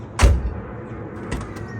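A single solid car door thud shuts close by on a Volkswagen Golf 1 project fitted with a G-Wagon door, followed a second later by a softer click or latch sound.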